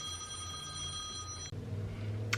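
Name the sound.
telephone ringing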